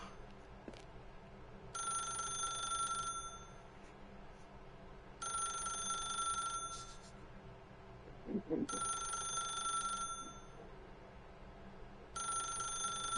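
A telephone rings in the video game The Stanley Parable, heard as four evenly spaced, bright electronic ring bursts, each lasting over a second, with quiet room tone between them and no talking.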